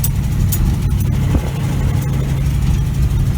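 A lifted 1977 Chevy K20 truck climbs a sandy hill off-road, its engine a steady, close, low rumbling drone that holds even throughout with no voices.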